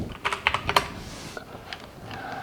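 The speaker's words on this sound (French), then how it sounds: "là je réponds un texto à ma voisine Cathy" A quick run of light clicking taps from typing a text message on a phone, a short burst of close, crisp keystrokes that fades into quiet room tone.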